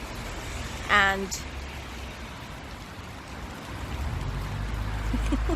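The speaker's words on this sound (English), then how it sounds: "You can hear the rain." Outdoor rain in Sweden, falling steadily as a soft, even wash of hiss that swells a little toward the end, with a brief spoken word near the start.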